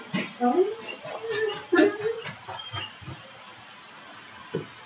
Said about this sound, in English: My dogs are really restless today.